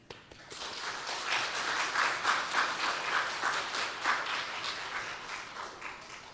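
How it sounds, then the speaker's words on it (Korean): A church congregation at a worship service applauds to welcome a newly baptized child, the clapping swelling quickly and then holding steady before it slowly thins out. "성도 여러분은 이 아이에게 따뜻한 사랑과 축하의 박수로 환영해 주시기를 바랍니다."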